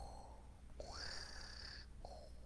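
A quiet, drawn-out snore is imitated by a voice, one long rising breath followed by the start of another.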